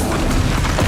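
A Confringo fire spell blast in Hogwarts Legacy, a short loud booming burst with a rumbling, crackling body, close and alone.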